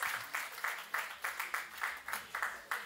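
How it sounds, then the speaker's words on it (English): Audience applause at a pastor's 70th birthday and 40th wedding anniversary celebration, heard as a fairly faint, steady patter of clapping that swells in regular waves through the short stretch. "A round of applause for Mr."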